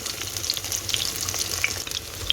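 Fenugreek seeds, spices and small onions sizzle steadily in hot oil for crab curry, a continuous close fry with faint crackles and occasional pops throughout.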